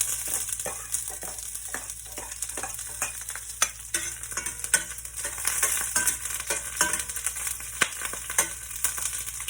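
Lemongrass, garlic and onion sautéing in a hot pan, a continuous sizzle broken by repeated scraping stirs of a utensil, close and fairly loud throughout.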